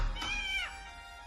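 A single drawn-out cat meow, fairly close and soft, rising then falling over about half a second, followed by quiet room tone.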